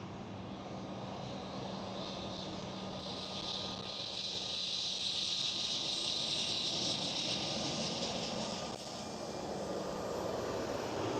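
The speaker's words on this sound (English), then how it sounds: "a KLM Cityhopper is coming in, E190" A KLM Cityhopper Embraer E190 airliner comes in to land at Schiphol, Amsterdam, a broad, sustained jet roar swelling to a peak and then easing slightly, steady throughout with no voices.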